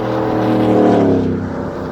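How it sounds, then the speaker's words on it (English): Passing car traffic on a road right beside a gravel RV park in Agassiz, B.C., a loud close engine roar swelling and then fading over two seconds. "Excuse the noise behind us, but we're right on the edge of the road here."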